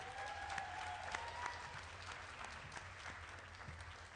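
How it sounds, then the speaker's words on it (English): Audience applause for students at a school district's State of the Schools address, a steady wash of clapping from a sizable crowd held at moderate distance, with a faint tonal whistle drifting above it early on. "Let's give the Broad Oak students another round of applause."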